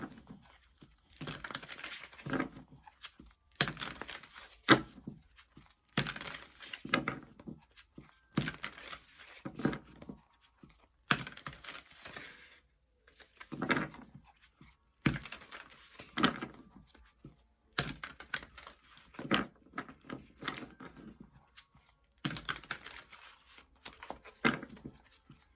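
Tarot cards are shuffled in repeated bursts of soft riffling and flicking, each a second or two long with short quiet gaps between, close and fairly faint, with no talking.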